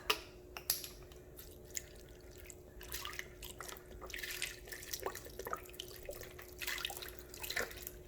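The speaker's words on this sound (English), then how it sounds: "And then I'm going to add the beef broth." Beef broth pours into a crock pot of pozole, a faint, steady liquid trickle with soft splashes that swells in the second half, with no talking.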